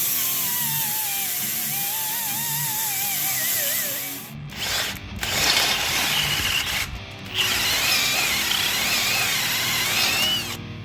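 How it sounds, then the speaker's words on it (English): A power tool grinds down a patch on a custom side-by-side roof, a loud continuous whine that shifts pitch and is broken by a few short pauses. "So I'm gonna grind that down and run a drill bit through here"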